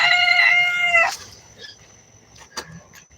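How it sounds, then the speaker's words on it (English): A rooster crows loudly for about a second at close range, followed by fainter clucks and scattered background noise. "Fuck you, chicken."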